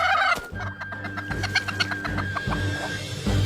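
Turkey call in a fairy tale, heard as a loud run of rapid clucking and gobbling calls, close and busy, over a low background hum with no speech.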